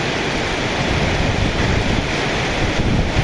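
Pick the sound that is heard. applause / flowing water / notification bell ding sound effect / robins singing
flowing water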